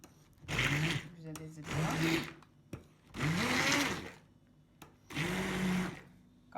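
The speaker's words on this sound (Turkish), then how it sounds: "Ben blenderla eziyorum." A kitchen blender mashes separated aloe vera gel in four loud bursts of whirring motor noise with short pauses between them, the pitch shifting as the load changes.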